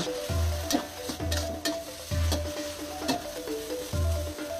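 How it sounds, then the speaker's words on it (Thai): Glass noodle pad thai stir-fried in a pan, steady sizzling with a rhythmic scraping stir about once a second, close and clear, with no talk. "แล้วก็ผัดลงไป ให้หอมหอม"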